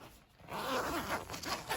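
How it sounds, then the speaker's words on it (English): Zipper on the door of a Nemo Kodiak four-season tent being unzipped, a close, steady rasping pull running about a second and a half after a brief quiet start, with no talking. "You can unzip."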